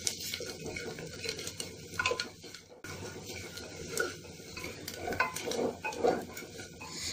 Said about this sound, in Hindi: मसाले को मैंने भून लिया है